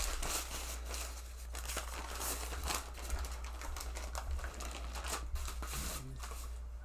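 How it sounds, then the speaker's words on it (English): A wrapped butter block for puff pastry is unwrapped, giving quiet, close crinkling and rustling of the wrapper in irregular bursts over a low steady hum. "we're going to go ahead and unwrap our butter block"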